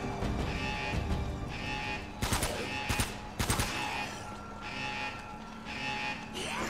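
Gunfire in Uncharted: Drake's Fortune, with several rapid bursts of shots cutting through a steady game soundscape of ambient music and background rumble.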